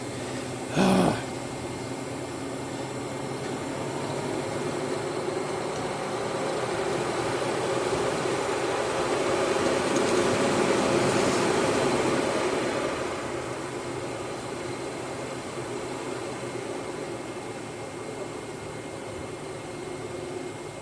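On a 2010 Lincoln MKS, the radiator cooling fan produces a steady airy whoosh that swells and then eases. A sharp click comes just before it.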